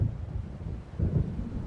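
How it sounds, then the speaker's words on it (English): Distant thunder of an approaching storm in the Alan Wake video game, two low rumbling rolls separated by a brief lull, deep and muffled with a faint windy wash around them. "It seems there's a storm coming."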